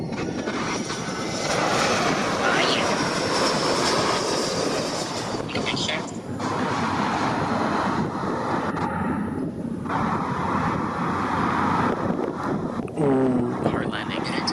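A Delta Boeing 757 jet lands hard at San Juan airport, its engines producing a loud, steady broadband roar across the whole stretch, with a voice speaking briefly over the noise.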